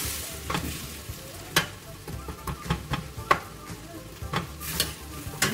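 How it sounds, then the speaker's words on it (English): Beef bouillon stirred in a frying pan for pork goulash, a continuous sizzle broken by repeated clicks and scrapes of a utensil against the pan at an uneven pace, close up with no voices. "Just mix until the boil-on is melt."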